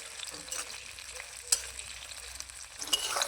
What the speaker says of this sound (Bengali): পেঁয়াজগুলোকে হালকা লাল করে ভেজে নিয়েছি।